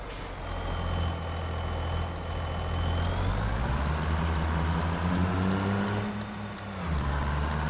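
A truck engine in the video game Farming Simulator 25 drones steadily and rises in pitch as it revs up and shifts, with a brief hiss like an air brake near the end.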